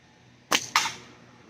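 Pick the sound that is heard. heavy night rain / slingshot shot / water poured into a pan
slingshot shot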